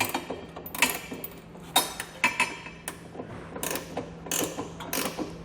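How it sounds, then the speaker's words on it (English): A hand wrench ratchets as it snugs down the bolts on a Curt trailer hitch receiver being installed on a 2020 Toyota RAV4. Crisp, irregular clicking bursts come close up over a quiet background. "use a wrench like this to kind of tighten down the bolts"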